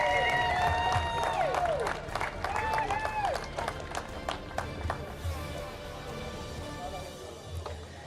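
Outdoor crowd applause and cheering for a young under-10 minis kart racing podium finisher at an IAME UAE Series round, with steady clapping and whoops near and far while an announcer talks over it.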